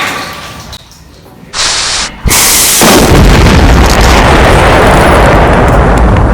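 A toilet in an abandoned factory bursts in a sudden loud explosion, the blast roaring up at once and then holding as a sustained, wide rushing spray that fills the rest of the sound after a brief quieter stretch.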